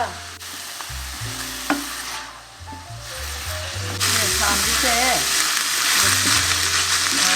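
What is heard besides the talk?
stir-frying mazesoba sauce with doubanjiang until reduced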